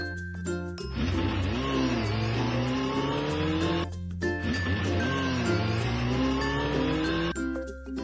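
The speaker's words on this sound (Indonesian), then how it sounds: "Motocross." A motocross motorcycle revs in two long, rising bursts separated by a short pause, its engine whine climbing over a bed of background music.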